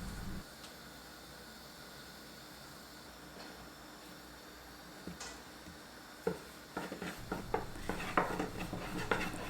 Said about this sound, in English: My pan is already heated and I'm ready to cook my first eggplant gözleme.